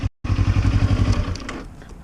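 A Kawasaki Ninja 400 motorcycle engine burbles loudly up close with a pulsing exhaust note, then fades down over the last second.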